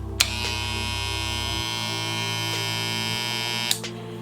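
Electric hair clippers, a 5-star seniors model, run with a steady, close buzzing hum, clicking on near the start and shutting off near the end, with a slight pitch change midway.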